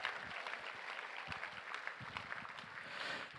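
Applause from a luncheon audience at a fundraising event, a quiet, distant, continuous patter of many hands that swells slightly toward the end.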